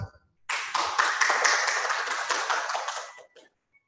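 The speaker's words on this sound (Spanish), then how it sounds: "le damos un voto de aplauso" A burst of audience applause greets the speaker at a Spanish-language talk on complementary medicine in cancer, rising sharply after a brief quiet, holding steady for nearly three seconds, then fading to a few stray claps.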